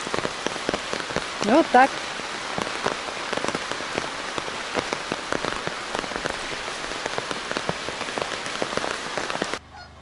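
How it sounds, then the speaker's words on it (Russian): Steady heavy rain with hail patters and splashes on a hard surface, dense and continuous, with a brief voice speaking over it. "наверное, идет этот дождь"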